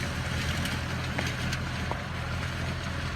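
A constant heavy engine drone from a Massey Ferguson 455 tractor pulling a six-disc plough, with wind-like noise, steady and unbroken, nearby.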